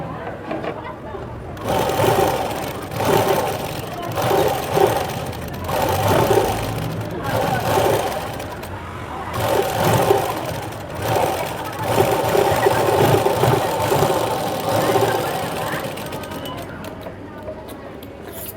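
A sewing machine runs top stitching along a blouse seam in repeated bursts of steady whirring, several runs separated by brief pauses, close and fairly loud, with a voice talking over parts of it.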